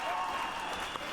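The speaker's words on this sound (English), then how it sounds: "I wanted to make sure you heard the applause." Applause from a played story recording, a brief, faint, hissy wash of distant clapping lasting about a second, thin and muffled as if coming through a small speaker.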